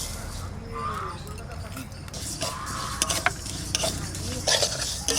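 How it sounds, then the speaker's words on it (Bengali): Mung dal dry-roasts without oil in a pot over a home stove, with repeated scraping strokes of a stirring spoon, light grainy rustling and occasional metallic clinks, close and fairly quiet. "মুগ ডালটা ভেজে নেব।"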